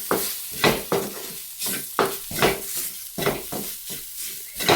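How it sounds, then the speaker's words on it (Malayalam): Spiced chicken masala being stirred in a hot pan, with repeated scraping strokes of a spoon against the pan over a soft sizzle, close and moderately loud, no talking. "നന്നായിട്ട് ഇങ്ങനെ ഇളക്കി കൊടുത്തോണ്ടിരിക്കുക"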